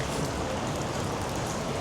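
Steady rain falls on a New York City street near Times Square on a cold day, a dense, even hiss of drops on pavement and an umbrella, continuous and close throughout.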